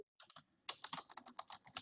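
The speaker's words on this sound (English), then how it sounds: "I want to hear you typing." Fingers tap a computer keyboard in quick, uneven bursts of clicks, close and fairly faint, starting after a brief pause and carrying on with no voices.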